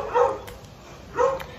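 A dog barks twice, a pair of separate mid-loud barks about a second apart, with no talking over them.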